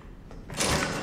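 In Resident Evil VII, a locked door is tried: a few faint knocks and rattles, then a louder scraping, sliding surge of noise near the end.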